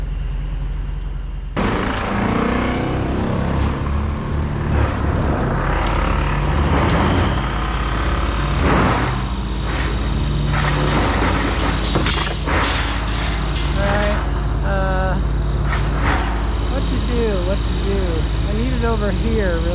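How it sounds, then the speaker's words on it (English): STIHL 500i chainsaw cutting logs near a pile with a skid steer around, a loud, sustained saw snarl that rises and falls as the chain bites, with people talking over it. "I think I'll cut a couple of these logs"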